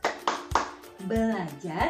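Children and a teacher clap hands in a quick rhythmic classroom clapping game, three sharp claps followed by sung chanting voices.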